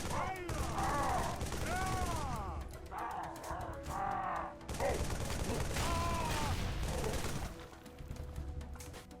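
Rapid gunfire and explosions from the video game Halo 3, with dense bursts of shots and crashes running continuously under a talking voice, busy and layered throughout.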